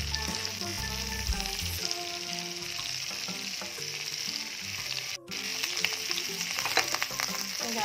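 Food sizzles steadily in rendered mutton fat with mustard oil in a home kitchen pan, a dense continuous frying hiss with occasional low scrapes, close and fairly loud, broken by one brief drop near the end.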